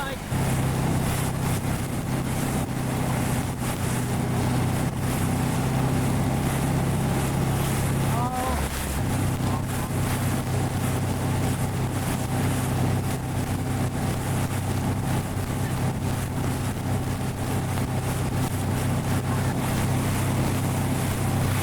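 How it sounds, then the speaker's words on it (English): Motorboats on Bear River Reservoir lake, a steady engine drone with wind buffeting the microphone, one boat passing briefly nearer midway. "There's the boats in the lake."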